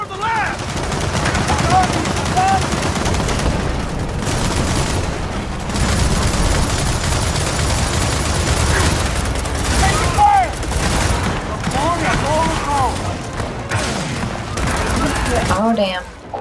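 Rapid bursts of automatic gunfire and heavy shots in a Gears of War 4 firefight against enemy troops, dense and loud almost throughout, with players shouting and talking over the shooting.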